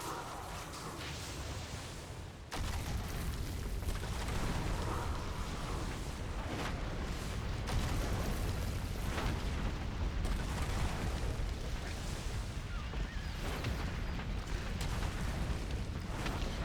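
Earthquake spell blasts rumble on in World of Warcraft: a dense, continuous roar of rolling booms and crackling bursts swells sharply after a quieter opening and stays loud to the end, with no talking.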